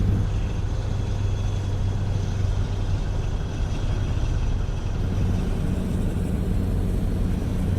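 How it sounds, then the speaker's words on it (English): A Cummins truck engine runs steadily in a trucking video game, a continuous low rumble with a constant drone and no breaks, heard alone without voices. "It's a Cummins engine."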